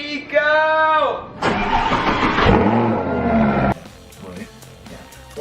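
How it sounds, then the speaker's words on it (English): A Lamborghini engine starts up: a roaring rev rises loudly and holds for a couple of seconds, then drops to a lower rumble, with excited voices talking over the start. "Let's get this Lamborghini started."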